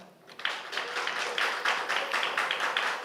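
A church congregation claps for award winners, a soft, fairly distant patter of applause that swells slightly and holds steady.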